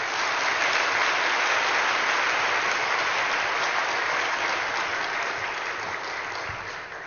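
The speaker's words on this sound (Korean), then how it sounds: "우리 실장님 나오셔 뜨거운 박수로 환영하도록" A large audience at a church seminar on pseudo-Christian groups gives warm, sustained applause to welcome a speaker. The dense clapping stays steady and loud, then tapers slightly toward the end, with no talking over it.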